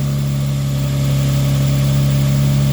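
Close by, a Mitsubishi Eclipse car engine holds a smooth, even idle, a steady low droning hum that stays level and unbroken for the whole stretch.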